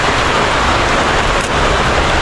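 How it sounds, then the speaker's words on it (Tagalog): Heavy rain pours down in a steady, loud, broadband hiss during a thunderstorm by the sea in the Philippines, unbroken and continuous throughout with no voices. "Naglalakas ng ulan. Rinig nyo ba yan mga idol?"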